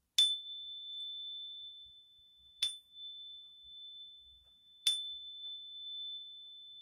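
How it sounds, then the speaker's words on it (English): A single-tone chime is struck three times at even intervals, each bright ringing strike decaying slowly into silence. "This is a chime."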